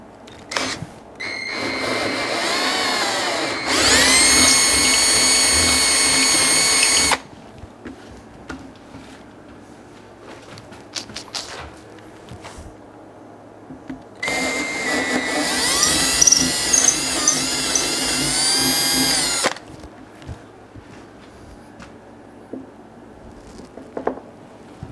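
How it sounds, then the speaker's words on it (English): A power drill, used while finishing a resin-poured patio table top, whirs in two long bursts of several seconds each, close and fairly loud, separated by quieter stretches of faint handling noise. "I got a drill."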